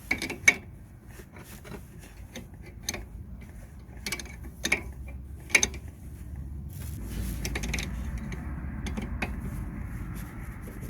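Brake pipe fitting being tightened on the caliper of a Mercedes B class W245, a series of sharp metallic clicks and ticks from the tool at close range, with rustling handling noise in between.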